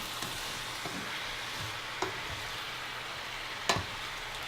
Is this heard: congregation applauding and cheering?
no